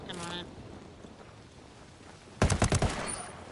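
A short close burst of rapid gunfire from Ghost Recon Wildlands near the end, following a brief voice and quiet ambience.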